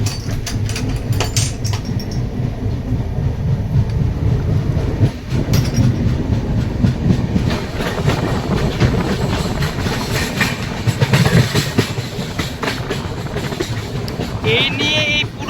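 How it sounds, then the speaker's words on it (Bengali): The New Delhi - Malda Town Express pulls away from Farakka station, wheels clattering in a steady clickety-clack over the rails, loud and close with wind rushing past. "ফারাক্কা স্টেশন থেকে ট্রেন ছেড়ে বেরিয়ে যাচ্ছে"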